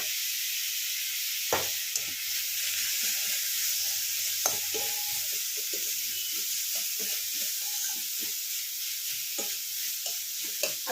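Beetroot sizzles in a frying pan, a constant broad hiss with scattered crackles and occasional scraping stirs, close and moderately loud with no talk.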